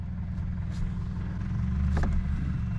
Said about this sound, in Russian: Пытаемся выдернуть машинку